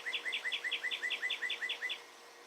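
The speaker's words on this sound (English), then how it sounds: "I'm having a concert of birds." Outdoors, a bird sings a fast, even series of about a dozen repeated whistled chirps, near and clear, then stops abruptly, leaving quiet background hiss.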